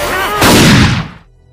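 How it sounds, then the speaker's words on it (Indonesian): A loud, close gunshot in a film scene, a single sharp blast that rumbles and decays over about half a second, following faint music or dialogue. "Tapi tepat di saat Mitch hendak menikamnya, Julian terlebih dahulu melepaskan timah panas."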